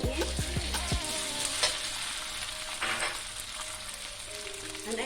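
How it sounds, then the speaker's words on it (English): Thin-sliced chicken breast coated in cornstarch fries in a pan with a continuous close sizzle. A few clunks of the pan or spatula come at the start, with occasional stirring scrapes after. "So now we're gonna fry this for a while until our meat is cooked."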